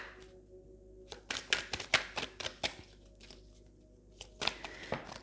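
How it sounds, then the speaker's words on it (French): Tarot cards shuffled by hand in quick papery riffles and flicks, two bursts separated by a short pause, close and fairly soft, with no voices. "Allez, on va tirer une dernière carte."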